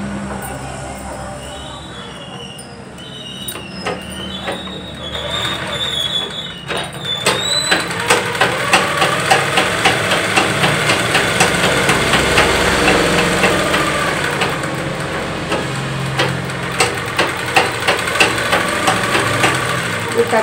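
A sewing machine stitches hand-rolled piping onto cloth, running as a continuous mechanical whir with rapid rattling needle ticks that builds and holds steady over about twenty seconds.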